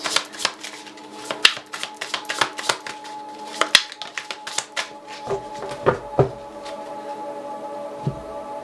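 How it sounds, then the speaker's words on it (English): Tarot cards shuffled and drawn for a reading: a rapid run of crisp riffling card flicks and snaps, close and clear, easing into a few slower slaps and slides toward the end. "Card for Taylor, please"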